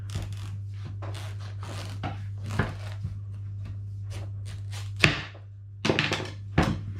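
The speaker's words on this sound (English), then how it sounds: "all we simply do is cut it in half" A kitchen knife cuts a butternut squash in half on a board, giving several sharp chopping thunks and crunching cuts, close and fairly loud over a steady low hum.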